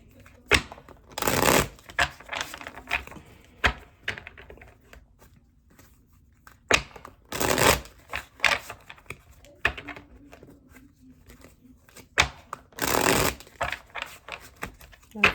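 A deck of What's the Vibe oracle cards being shuffled in repeated short riffling bursts with pauses between them, fairly close, while a person speaks in the gaps.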